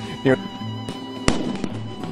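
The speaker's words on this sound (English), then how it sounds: "These are 155mm howitzer cannons, and they opened fire again after the ceasefire ended" 155mm howitzer cannons fire, with one sharp, loud boom standing out amid lighter blasts while a voice talks over the scene.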